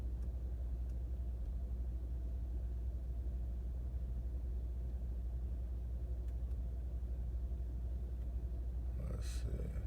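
An MTX subwoofer rumbles with steady, heavy low bass inside a car. The deep hum stays constant and dominant throughout, with faint higher noises on top.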